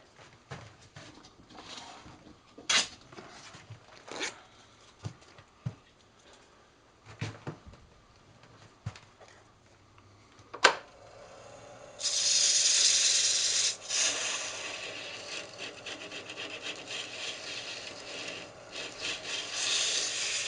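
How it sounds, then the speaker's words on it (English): Fine abrasive sanding on a spinning wooden pill toy turned on a lathe, first a scattering of light scratchy rubs and taps, then a steady louder hiss of sandpaper against the rotating wood that carries on to the end. "I'll sand that up and then spin it around"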